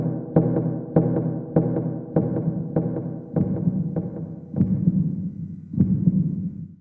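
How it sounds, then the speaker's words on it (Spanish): Steady heartbeat thumps repeating roughly every 0.6 seconds, a deep double-beat pulse with a low hum beneath, rendered as the piuque rhythm in Mapuche choique purrün music, clear and close with no voices. "el latido del corazón"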